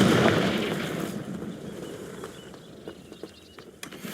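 A Confringo blast spell in a Harry Potter-style video game goes off with a loud burst that decays into crackling debris and scattered small pops and thuds over several seconds.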